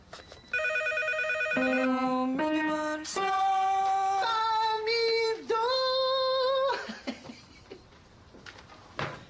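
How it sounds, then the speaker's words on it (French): Telephone ringing in a TV comedy scene, a harmonic electronic ring repeating in several loud bursts of changing pitch, alone with no talk, then fading into soft knocks. "le téléphone qui arrête pas de sonner"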